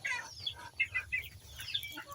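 Chickens cluck softly in a farmyard pen, a series of short chirping calls in quick succession, faint and close, with no talk.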